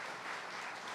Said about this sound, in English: So give yourself a round of applause for the community that you've brought together.